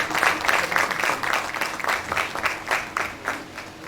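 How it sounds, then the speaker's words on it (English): A modest audience at a Faculty of Dentistry academic presentation gives a round of applause, with individual claps clearly audible in an uneven, fairly close patter that continues steadily for several seconds. "Let's give her another round of applause."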